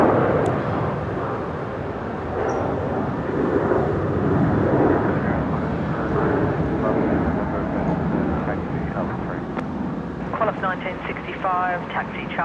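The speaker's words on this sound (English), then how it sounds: "here's Velocity 1641, rolling, heading to Launceston down in Tasmania" Velocity flight 1641, an airliner bound for Launceston, rolls for takeoff at Brisbane Airport with a broad, steady roar and wind noise, while radio voices talk over it toward the end.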